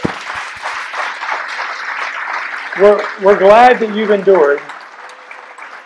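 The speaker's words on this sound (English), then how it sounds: "So would you give Tommie Harris a round of applause?" Audience applause at a talk by Tommie Harris, author of Endure, rises as a broad clatter beneath a voice that keeps speaking over it.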